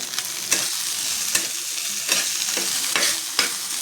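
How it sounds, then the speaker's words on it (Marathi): Garlic, green chilli and ginger frying in hot oil over a high flame, a bright close sizzle broken by several sharp spatula scrapes and taps against the pan. "थोडंसं आपण लसूण याच्यामध्ये भाजून घेऊया"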